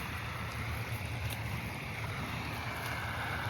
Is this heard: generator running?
yes